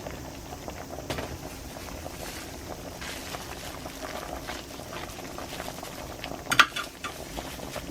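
Water spinach (kangkong) going into a pot of sinigang na bangus, a sour milkfish soup, with soft steady simmering, faint stirring and liquid sloshing, and one brief sharper clink near the end.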